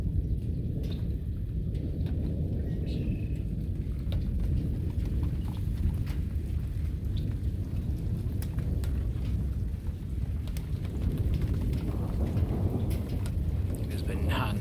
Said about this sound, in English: Just constant thunder.